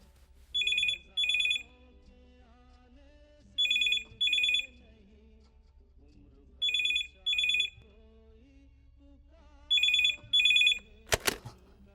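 A telephone rings unanswered, four paired bursts of electronic ringing evenly spaced over quiet background music, ending with a brief clatter.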